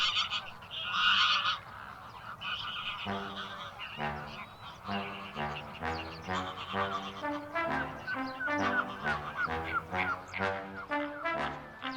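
A large flock of migrating flamingos calls together in a continuous chorus of goose-like honks, dense and overlapping, heard from moderately close with no voices.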